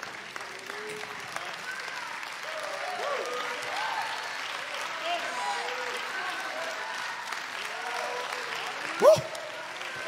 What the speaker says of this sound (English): Let's clap our hands and thank him for what we feel.